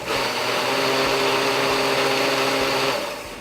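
Tomatillo sauce is chopped and mixed in a running kitchen machine, a steady, loud motor whir that holds constant for a few seconds and then cuts off.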